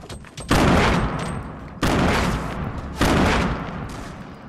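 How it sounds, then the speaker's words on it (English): Gunfire rings out in the Fortnite battle royale, with three loud bursts of rapid shots roughly a second apart, each decaying into a noisy tail, close and dominant. "Shots from behind me."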